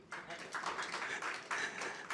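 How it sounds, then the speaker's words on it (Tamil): An audience at a Tamil literary gathering claps in a faint, scattered patter that swells in a few brief waves, heard from a distance. "அப்படின்னா ஒரு கைத்தட்டிடலாம்"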